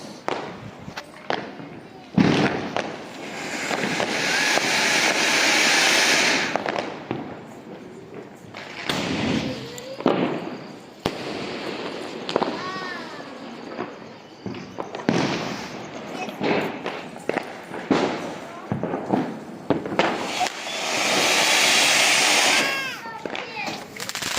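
Diwali firecrackers and fireworks burst in a family setting, a run of loud cracks and thuds with crackling bursts and whistling rising tones, while people talk throughout.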